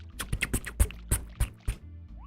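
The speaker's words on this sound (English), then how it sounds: "I love the water sound effect." Super Mario 64 water effect in the Dire Docks level: a quick run of about eight short, splashy bursts at an uneven rhythm, fairly soft and alone.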